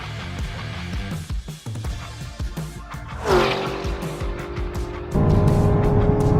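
A Chevrolet Camaro ZL1 1LE muscle car on a hot lap roars through repeated gear changes, its engine note rising and dropping before settling into a loud sustained howl at high speed, with tire noise underneath.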